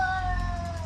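A pregnant cat meows close by on a quiet evening at home, giving one drawn-out, slightly falling meow that fills the short moment with no talking.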